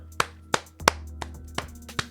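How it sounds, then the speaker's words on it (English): One person claps hands as a round of applause: six sharp, close claps at an uneven pace, each ringing briefly in a quiet room. "I'm not sure how much this is picking up in the mic, but round of applause."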